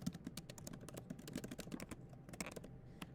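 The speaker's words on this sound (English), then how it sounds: "when I type out my" Rapid, close clicking keystrokes on a computer keyboard as a title is typed, a steady patter of light taps with no talking.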